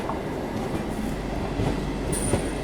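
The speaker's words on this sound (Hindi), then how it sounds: "ये अपनी दिल्ली की लोकल EMU ट्रेन, पुराना मॉडल है भाई साहब" An old-model local EMU train on the Delhi line rumbles past at close range, with a continuous loud roar, wheel clatter and brief high squeals.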